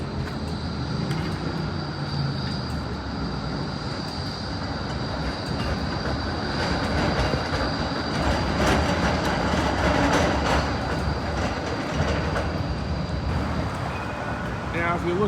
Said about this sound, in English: There's literally a tram in the background.